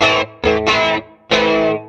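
Electric guitar notes played through the flanger effect of a Fender Mustang Micro amp, three or four loud distorted strums with a sweeping, swirling tone and short gaps between.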